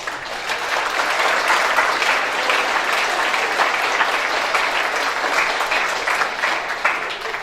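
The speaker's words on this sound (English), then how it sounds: "So a big round of applause for our parents" Dense, steady applause from a school audience at a 7th and 8th grade band and choral concert, holding at an even, full level throughout with no speech over it.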